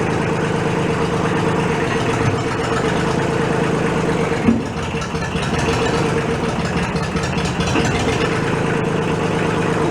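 A thrashed Kubota diesel tractor engine running loud and close, a steady throbbing clatter with a slight dip and shift in tone midway.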